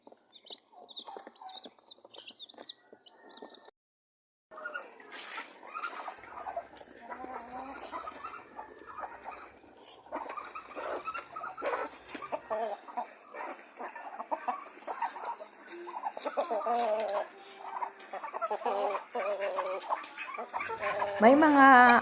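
Backyard chickens clucking, kept alongside ducks, with scattered clucks and calls close by over several seconds while someone talks over them.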